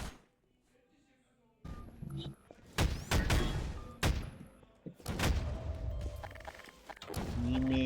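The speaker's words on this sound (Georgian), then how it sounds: "ნუ გაისროლა არტილერია" Video game artillery fires in several heavy booming blasts with sharp attacks and rumbling tails, the later shots running close together, then a sustained loud roar takes over.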